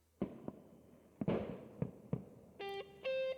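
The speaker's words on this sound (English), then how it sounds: "The fireworks have started, accompanied by music from a nearby concert." Fireworks going off outdoors, a series of sharp booming bursts with crackling tails spaced irregularly, followed by bright tonal synth-like music from a nearby concert.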